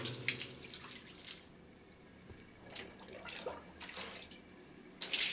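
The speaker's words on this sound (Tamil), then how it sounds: "தண்ணி கொட்டுற சத்தம் கேக்குது." Faint water pouring in short, uneven bursts with quiet gaps between them, as if poured from a little distance away.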